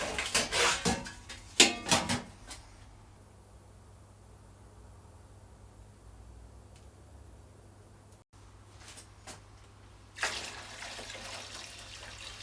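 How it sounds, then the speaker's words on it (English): Warm water pours into an ultrasonic cleaner used for Honda CX500 carburetor parts, with a few loud splashy bursts at the start, a quiet steady trickle through the middle, and a brighter rushing pour near the end. "I'm going to fill the ultrasonic cleaner with warm water"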